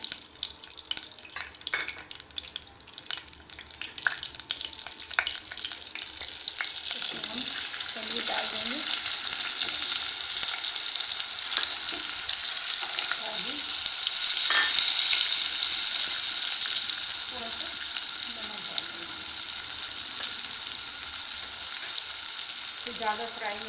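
Turmeric and chili powder fry in a little oil for palak paneer, giving a loud, continuous hiss that swells and holds, with intermittent scraping and clinking under it and faint talk at moments.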